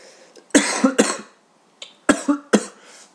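Two pairs of sharp, rough coughs, each pair quick and close, separated by a short pause; loud and close by.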